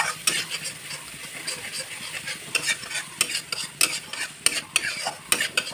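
Onion, ginger and garlic paste frying with cumin and turmeric in a pan for a jackfruit curry, a continuous sizzle broken by repeated sharp scrapes and clinks of a spoon stirring against the metal, close and busy, no talking.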